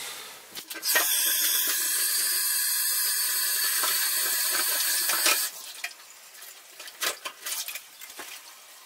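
Freshly picked asatsuki chives are rinsed under a running tap, a steady close splash of water that lasts about four seconds and then gives way to a few scattered handling knocks and drips.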